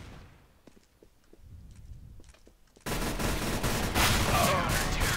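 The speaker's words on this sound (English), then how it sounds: "I shot him fair and square in the head like a bajillion times" Rapid automatic gunfire from Counter-Strike: Global Offensive erupts loudly after a quiet stretch of scattered clicks, a dense sustained burst filling the second half.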